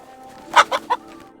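A chicken in Kingdom Come Deliverance II lets out three quick, close clucks over a quiet hum of background ambience.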